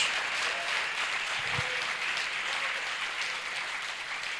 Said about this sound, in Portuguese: Mais alto em nome de Jesus suas palmas.